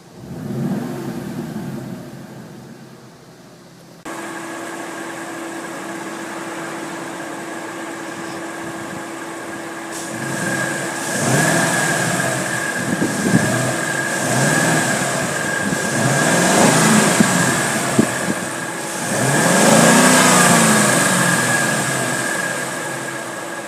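Ford Mustang GT 5.0 liter engine with the hood open, settling into a steady idle before several rising revs that swell and fall back, close up and loud with no talk.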